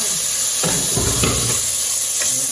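Onions and tomatoes sautéing in a pan, a steady close sizzle and hiss with a few stirring scrapes and clatters of a utensil against the pan.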